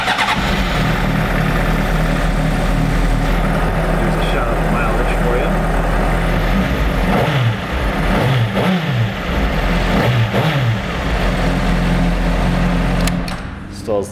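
A 2006 Honda CBR600RR sport bike with a stock exhaust runs close by, settling into a loud, steady idle with a few blips of the throttle before it goes quiet at the end. A voice talks faintly over the engine.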